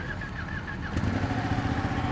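Motorcycles ride along a country road in a group of bikes out on a warm Sunday, their engines droning steadily with a mid-pitched hum that thickens midway through, heard without talk.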